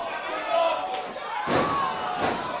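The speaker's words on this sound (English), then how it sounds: "Broken up by Gargano after the powerbomb jackknife cradle there by Taylor." Heavy slams hit a wrestling ring mat from a powerbomb, two loud booming impacts with a crowd murmuring in the background.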